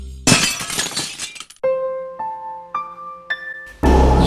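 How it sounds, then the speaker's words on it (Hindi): A car windshield is smashed, a loud shattering crash with glass fragments spilling, then a run of bright ringing tones before another burst of noise at the end. "जिसकी गाड़ियों के कांच रोज कोई चकनाचूर कर देता"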